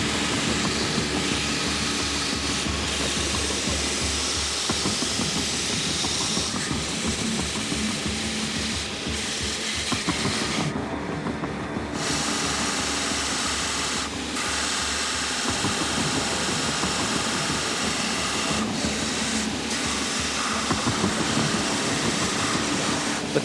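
Power sanding machine shaping a wooden sword handle made of two clamped pieces, a steady loud mechanical whir and grinding that runs continuously throughout, with brief shifts in pitch as the workpiece is pressed against the wheel.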